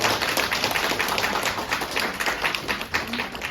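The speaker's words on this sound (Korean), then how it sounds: "박수 한번 할까요?" Church congregation applauding the worship team at a Sunday service, dense steady clapping from many hands filling the room for several seconds with no pause.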